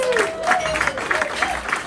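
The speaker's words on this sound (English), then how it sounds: "And give them a big round of applause." Round of applause from the audience at a jazz festival interview with a New Orleans-style jazz band, a short burst of crowd clapping mixed with a voice briefly sounding over it.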